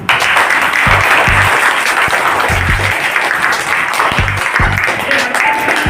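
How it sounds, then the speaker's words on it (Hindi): Loud, sustained clapping from a large crowd of children and adults at a primary school, dense and continuous throughout, with voices faintly mixed in beneath. "तुम्हारे लिए तो ताली बज रही है"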